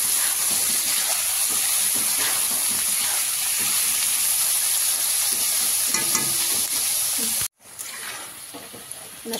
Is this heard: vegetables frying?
yes